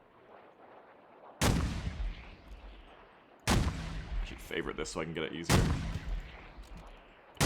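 A mortar in the Arma video game fires three times, each a sharp loud boom with a long rumbling tail, spaced about two seconds apart, while someone talks quietly underneath.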